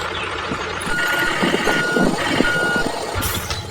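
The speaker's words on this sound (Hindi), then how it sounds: "अब वो ट्रैक्टर लेकर आ रहा है लकड़ी कट्टों को भरने के लिए" A DIY mini toy tractor pulling a trolley drives along with a steady, close motor whir. Thin beeping tones ride over the running engine-like noise.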